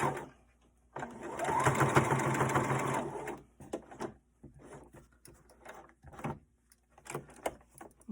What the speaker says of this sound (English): Then I'm going to continue sewing down the side.